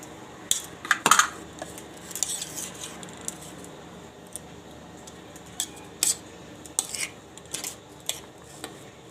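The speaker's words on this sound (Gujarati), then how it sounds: "આ બધું મિક્સ કરી લેવું" A utensil scrapes and clinks against a bowl in irregular bursts, mixing bread pizza topping ingredients with cheese, with quiet pauses between the stirring strokes.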